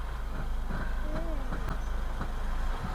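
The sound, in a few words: car engine labouring, unhappy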